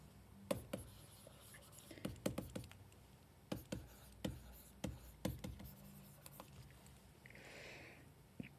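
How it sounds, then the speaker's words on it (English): Pen or pencil writing by hand on paper while working a chemistry acid-base problem, quiet irregular scratches and taps in short bursts, close and faint. "So then I'm going to write it."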